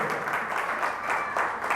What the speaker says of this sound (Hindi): आइए हम जोरदार ताली से उस खुदावंद यीशु मसीह को धन्यवाद करें।